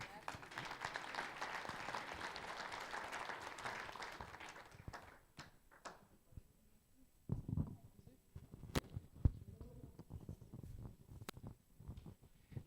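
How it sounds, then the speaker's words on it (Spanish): Audience applause at an academic panel on Indigenous students' experiences in the United States, a dense burst of clapping that fades out after about five seconds, followed by scattered isolated claps and a few faint voices. "Reitero de nuevamente el aplauso"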